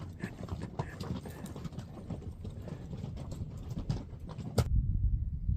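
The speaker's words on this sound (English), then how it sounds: "Just had a horse train go through." Rapid, irregular clip-clop of a horse train's hooves passing nearby on a hiking trail, with creaking gear, ending in a brief thump and rustle.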